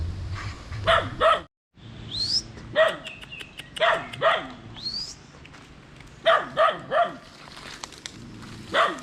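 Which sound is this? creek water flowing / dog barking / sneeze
dog barking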